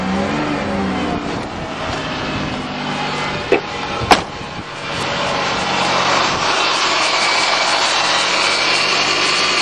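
A Pontiac engine that sat two years on old gas runs steadily after firing up instantly, a loud, close, continuous roar. A couple of sharp knocks break in partway through, and the note rises slightly near the end.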